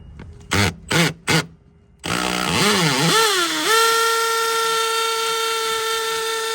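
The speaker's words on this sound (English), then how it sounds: "I'm gonna drill it with the M18" A Milwaukee M18 hammer drill in hammer mode gives three short bursts, then revs up into a loud, steady, high-pitched whine that holds close and constant while drilling mounting holes for a new AC disconnect.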